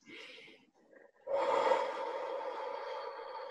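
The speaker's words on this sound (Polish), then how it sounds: "głośny wydech ustami." A soft breath is followed by a long, loud exhale through the mouth, airy and sustained until the end.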